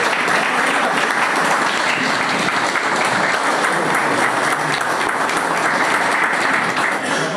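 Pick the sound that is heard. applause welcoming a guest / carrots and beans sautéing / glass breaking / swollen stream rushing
applause welcoming a guest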